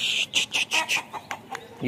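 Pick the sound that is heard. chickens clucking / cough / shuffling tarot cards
chickens clucking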